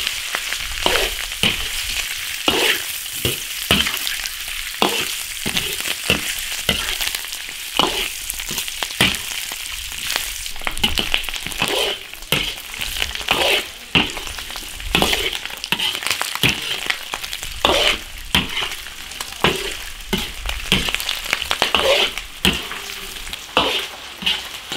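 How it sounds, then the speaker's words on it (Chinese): Pork sizzles and spits as it is stir-fried in an iron wok to render out the lard, a loud, continuous frying hiss broken by frequent sharp scrapes and clinks of the spatula, with no voices. "然后把肉炒一下，把猪油炒出来"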